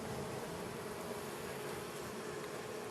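Honey bees buzzing inside a new hive, a dense, even drone of many insects, close and unbroken throughout.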